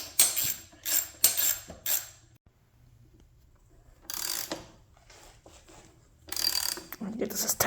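A ratchet wrench clicks in quick bursts while tightening a subframe bolt during a Vforce4R reed installation, with several loud ratcheting runs separated by short pauses.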